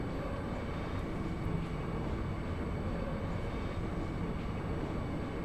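A steady, continuous broadband rumble of a moving train in Final Fantasy VIII, loud and unchanging throughout with no talk.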